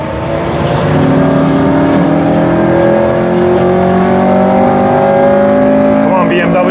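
A Honda Civic Type R FN2 with its K20 VTEC engine lapping the Nordschleife, a loud steady in-cabin engine drone holding a high pitch, with rising tones as it pulls through a gear.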